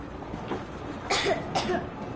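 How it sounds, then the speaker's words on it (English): Two short, harsh coughs close together in Metro Exodus Enhanced Edition on PS5, slightly muffled, over a steady low background hum. "I have this cough."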